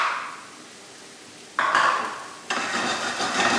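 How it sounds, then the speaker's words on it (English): Chopped garlic, a single clove, sizzles in a pan over medium heat while the pan is shaken back and forth, the frying hiss surging in two sudden bursts over a quieter steady sizzle. "So I'm moving the pan back and forward to save me having to stir everything in one go."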